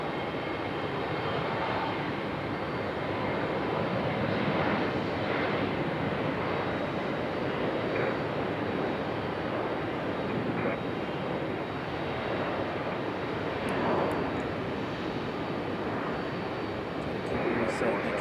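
Airliner in Boston Bruins livery at Raleigh-Durham International Airport, a steady broad engine roar held for the whole stretch, fairly distant and even, with wind noise.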